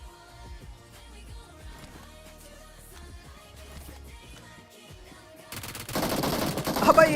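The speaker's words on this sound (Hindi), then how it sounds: "जो नई गन आई ना, उसकी गोलियां खत्म हो जाती हैं भाई, फिर आपको वन चेंज करनी पड़ती है।" Automatic fire from a new gun in the BGMI battle royale game rattles in rapid bursts over game background sounds, swelling into a loud, dense volley near the end.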